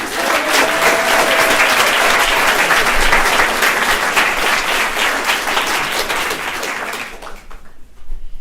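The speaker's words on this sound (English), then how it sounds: "let's just give a round of applause" An audience at a school speech contest finals gives loud, sustained applause that fills the room and then fades out abruptly near the end.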